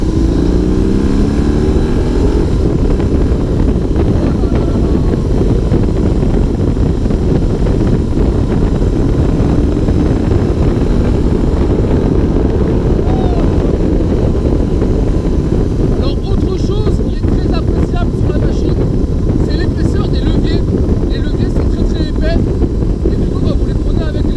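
A BMW R18 Classic cruiser with its 1800 cc boxer engine pulls hard under acceleration, a loud continuous rumble swamped by heavy wind buffeting on the microphone, with the engine tone rising then settling toward the end.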